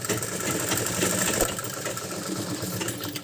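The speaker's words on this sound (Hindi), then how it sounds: "अब हम इस पर डबल सिलाई कर देते हैं" An electric sewing machine runs a continuous double line of stitching around a kurta neckline, a loud, close, steady mechanical whir with no speech.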